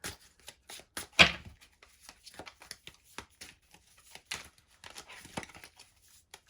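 Tarot cards are shuffled by hand at close range in short, crisp riffling bursts separated by quiet pauses, with one sharper flurry near the start.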